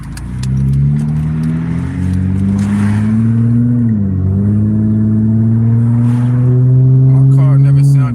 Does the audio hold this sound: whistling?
no